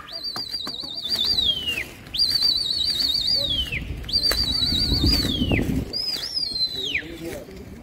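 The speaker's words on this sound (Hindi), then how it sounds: "चल दिया जी कबूतर" A pigeon flaps its wings and flies off from a rooftop loft, the flutter of wingbeats mixed with loud, repeated warbling human whistles and brief voices nearby.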